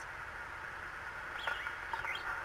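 Bird chirps from the Myst IV: Revelation game world, a few short rising tweets over a steady ambient background, fairly faint and without talk.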